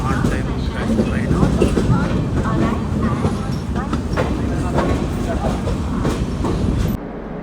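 The Prashanti Express passenger train running on rails, heard from inside as a steady rumbling roll with rhythmic clickety-clack wheel beats. It is loud and continuous, then drops noticeably near the end.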